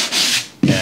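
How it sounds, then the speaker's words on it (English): Sandpaper rubs by hand over drywall around an electrical box cutout in two quick, close strokes, a brief rasping scrape with a short break between passes. "give it a sanding."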